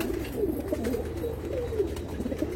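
A Kalshira Andhra pigeon coos softly and repeatedly at close range in a loft, low rolling calls following one another without pause.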